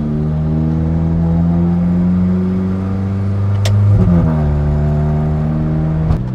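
An Alfa Romeo 4C Competizione with a newly installed carbon-Kevlar clutch drives along, its engine droning loud and steady from inside the cabin, rising slightly and then shifting pitch as it changes gear.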